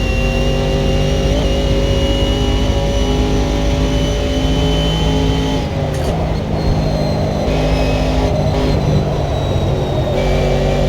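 A Camaro's engine revs hard and steadily in a racing video game, a loud, continuous drone that shifts pitch as it accelerates and changes gear, with no voices over it.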